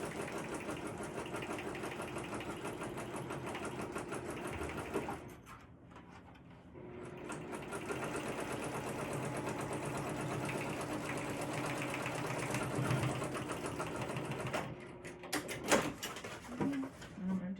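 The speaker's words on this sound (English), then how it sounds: "I am just going to sew on each side of the seam just to reinforce it a little bit" A sewing machine reinforces a seam on a crossbody bag, running in a long steady hum that dips briefly and then resumes, with faint clicks toward the end and a voice in the room.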